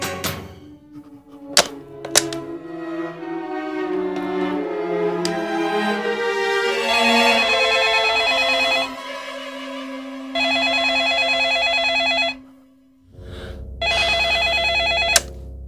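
An old-fashioned telephone bell ringing at night in a Hindi TV drama, with repeated loud, close trilling rings separated by short pauses and a few sharp thunks near the start.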